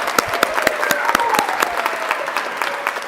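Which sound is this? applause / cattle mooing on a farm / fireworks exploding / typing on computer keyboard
applause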